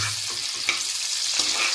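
Prawns sizzling in oil in a pan for a malai curry, a steady close frying hiss broken by a couple of light stirring clinks.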